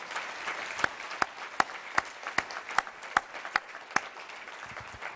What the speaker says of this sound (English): And a round of applause for our caregivers.